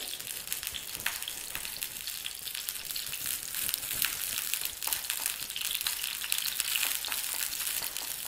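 Ghee heating in a pan for pongal, a steady fine crackling sizzle with scattered tiny pops running evenly throughout, faint and close with no talking.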